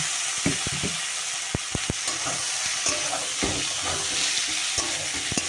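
Vegetables frying with browned onions in a pan, a constant sizzle broken by sharp scraping knocks of a spatula stirring at an irregular pace, close and loud.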